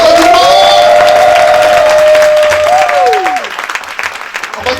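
Audience applauding at an investiture ceremony, loud sustained clapping from a crowd with a tonal melody over it, tapering off near the end.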